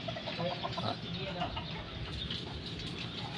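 Gamecock roosters cluck in a backyard fowl yard, with soft short clucks scattered close by over a busy, noisy background.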